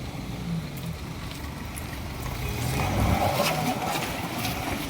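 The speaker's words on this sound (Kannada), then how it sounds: "ಗಾಡಿ ಯಾವ ರೀತಿ ಹೋಗ್ತಾ ಉಂಟು ನೋಡಿ" A vehicle driving over a potholed road in Dakshina Kannada district: a constant engine drone and rumbling road noise, fairly close, swelling slightly midway as the vehicle bumps along.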